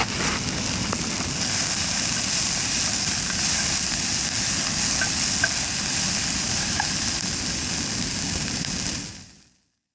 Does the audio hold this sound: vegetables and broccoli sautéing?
yes